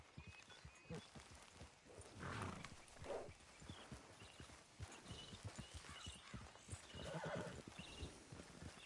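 A horse in Red Dead Redemption 2 gallops with fast, busy hoofbeats and lets out a couple of neighs and whinnies, close and continuous under faint ambient game sound.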